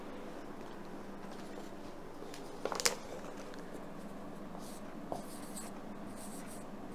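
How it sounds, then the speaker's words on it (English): A pen scratches across paper in continuous close strokes, with a couple of sharper taps and scrapes standing out midway, while faint talk sits in the background. "Okay, so I'll write it down."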